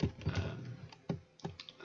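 Fingers tap on a German computer keyboard in an uneven burst of close keystrokes, a quick cluster followed by a few scattered presses.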